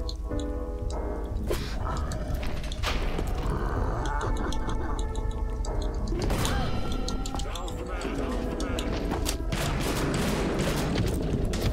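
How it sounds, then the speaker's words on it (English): Dense bursts of gunfire crackle and pop almost continuously in the video game Withering Rooms, layered with game sound effects and crashes, under occasional voices. "You hear all the gunshots?"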